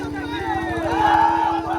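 Crowd gathered along both riverbanks for a traditional nouka baich boat race in rural Bangladesh, a steady murmur of many voices with a rhythmic pulsing beat beneath, continuous and moderately loud throughout.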